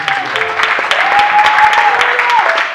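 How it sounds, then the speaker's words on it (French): Church congregation applauding a couple, a burst of clapping from a crowd indoors with a voice speaking over it. "Est-ce que vous les acclamez?"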